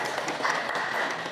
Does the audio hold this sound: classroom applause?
yes